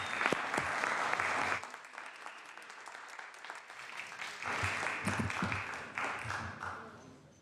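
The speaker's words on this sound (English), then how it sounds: "Please give them some applause." Applause from a legislative floor audience in the California State Senate, loud steady clapping for the first second and a half, then fading and swelling again in several bursts, with faint voices underneath.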